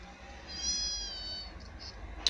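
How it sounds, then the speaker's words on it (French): A long-haired, plump female Persian-type cat gives one drawn-out, clear meow close by, alone in a quiet room, followed by a small click at the end. "Suta, chat typé persan."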